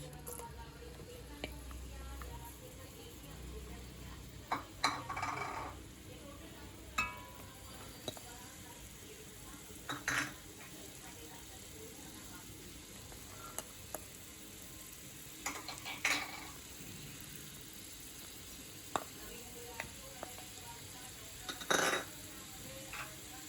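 Vegetables frying in four tablespoons of oil in a pan for a Thai red curry give a soft, steady sizzle under a spoken voice, broken by repeated sharp utensil clicks and scrapes.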